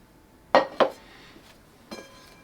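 Cookware pots and pans being nested inside one another, two sharp metallic clanks in quick succession followed by a softer clink a moment later, close and otherwise quiet.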